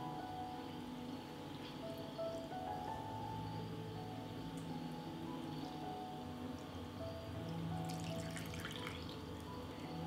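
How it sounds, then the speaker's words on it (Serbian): Cold salted water poured into a glass jar packed with shredded cabbage, a steady running, trickling pour with faint splashes throughout, continuous and close, with no talking. "I zatim ću vodu sipati u teglu."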